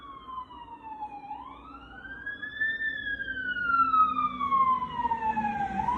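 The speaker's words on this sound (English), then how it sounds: "I think it was just a fire truck going by for some reason." A fire truck siren sweeps past on the street outside a home, its wailing tone rising and falling as it approaches and moves away, growing louder toward the end, with low traffic rumble underneath.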